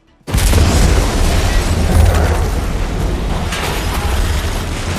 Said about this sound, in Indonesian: tak lama setelah ledakan itu